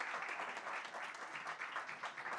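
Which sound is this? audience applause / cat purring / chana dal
audience applause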